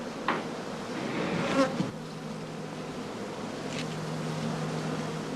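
Many bees buzz continuously around heather skeps in an apiary, a dense steady drone with individual insects flying close past now and then, no voices.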